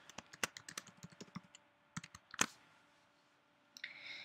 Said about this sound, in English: then begin typing the caption you wish to include